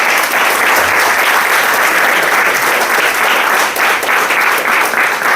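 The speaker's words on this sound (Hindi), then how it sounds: "एक जोरदार ताली होनी चाहिए।" Loud, sustained applause from a seated audience at a direct selling industry seminar in India, dense clapping that holds at full strength throughout without a break.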